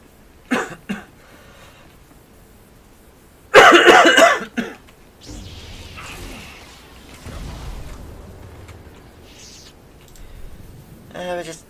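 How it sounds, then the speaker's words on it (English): A person coughs, with one short burst early and a louder harsh fit in the middle. The coughing sits among quiet game sounds and some talk. "Still got my cough."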